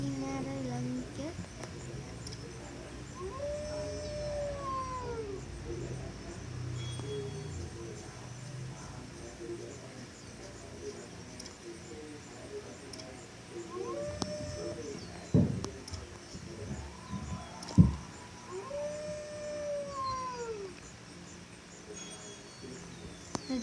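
A wolf howls in the video game The Wolf, with two long, faint, rising-and-falling howls spaced well apart over low game ambience, plus occasional voices and thumps.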